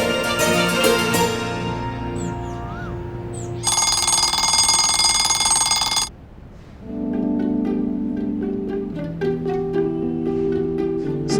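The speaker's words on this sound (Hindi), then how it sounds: "इतनी सुबह का अलार्म क्यों लगाया भाई?" Early in the morning an alarm clock rings in long bright repeated electronic tones, with a loud steady buzzing stretch in the middle, then resumes in a busier pattern of pulsing chimes, clear and close with no voices.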